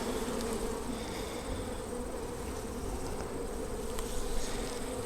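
A dense, constant hum of many honey bees in an opened hive, loud and close, with the swarm agitated and swelling slightly near the end.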